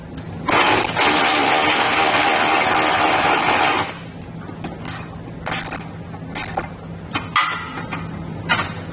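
An 18 mm socket on a ratchet or impact tool spins out bolts under a 2023 Jeep Wrangler 4xe, a loud continuous mechanical whirr for about three seconds, then scattered clicks, ratcheting and a sharp metallic clank.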